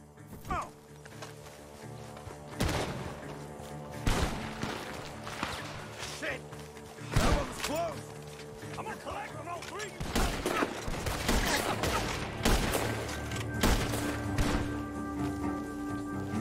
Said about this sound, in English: Gunshots are coming